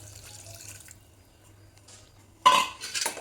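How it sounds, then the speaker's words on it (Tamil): Water is poured into a pot of mutton masala for mutton chukka, a short splashing pour heard close after a quiet stretch, with faint clinks of the pot. "1/4 கப் அளவு தண்ணி ஊற்றிக்கோங்க."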